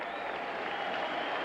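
Fenway Park fans standing and cheering with two out in the ninth inning, Blue Jays at Red Sox, an unbroken wash of applause and crowd roar heard from afar.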